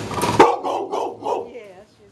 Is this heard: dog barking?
yes